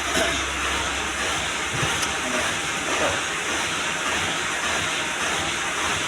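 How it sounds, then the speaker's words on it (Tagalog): A dryer blows steadily to dry ink on printed silver paper cup labels at a print shop, giving a constant loud broadband hiss with no pauses. "Ito guys yung dryer na ito."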